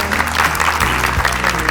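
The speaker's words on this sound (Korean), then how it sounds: "자, 박수 부탁드리겠습니다" Audience applause at a televised Korean new-year lecture, dense loud clapping filling the short moment with a low crowd murmur beneath.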